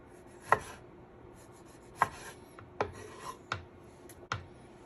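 A knife chops food on a cutting board in several sharp, separate thuds spaced about a second apart, close and clear over a quiet background with no talking.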